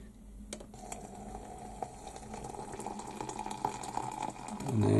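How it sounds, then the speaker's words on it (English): Half a pint of boiling water poured from a kettle onto raspberry sugar-free jelly in a kitchen: a quiet, steady liquid stream trickling into a bowl, ending with a louder splashy pour near the close. "And we have half a pint of boiling water go in."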